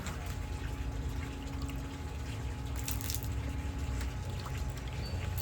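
Water runs and splashes steadily as a pool water test tube is rinsed out, a constant close wash of liquid with no talk.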